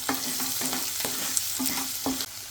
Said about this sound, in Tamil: இப்போ இந்த வெங்காயம் வதங்கிறதுக்கு வேண்டிய உப்பு போட்டுக்கோங்க